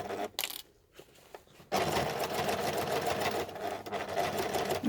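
A sewing machine runs a long basting stitch joining a bum bag together, a steady close mechanical whir that starts after a few brief stops and then runs continuously.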